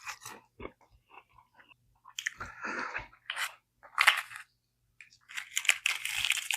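Close, crisp crunching bites and chewing of fried poori eaten with masala at breakfast, in irregular bursts separated by short pauses, growing denser toward the end.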